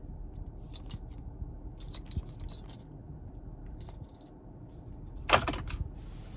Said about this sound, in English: And finally, here's our key fob.